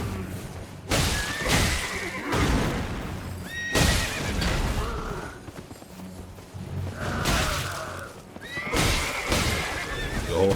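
A horse neighs repeatedly in the video game Elden Ring, several loud whinnies separated by short gaps, with hoof clip-clops and thuds mixed in.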